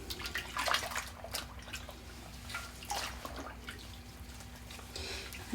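Madder-dyed cloth is rinsed by hand in water with eco laundry detergent, giving soft, irregular splashes and drips at low level for several seconds, with no one speaking.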